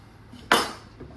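A single knife chop through a courgette onto a cutting board, one sharp crisp cut with a quick fading tail and a faint tap after, close and alone in a quiet kitchen.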